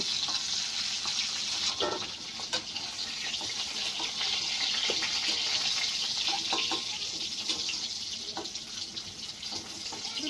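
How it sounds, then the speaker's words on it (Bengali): Cumin seeds crackle and sizzle in hot oil in a pan, following drumsticks fried earlier, as a loud, continuous close-up hiss scattered with sharp little pops throughout. "এখানে আমি তেলের মধ্যে জিরেটা ফোড়ন দিয়ে দিয়েছি।"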